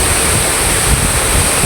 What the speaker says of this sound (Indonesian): Kutuk Bruno waterfall, air terjun Kutuk Bruno